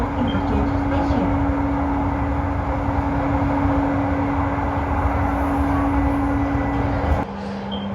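A driverless LRT train in Jakarta moves along with a steady, loud rumble and a constant electric motor hum from inside the carriage, which eases slightly near the end.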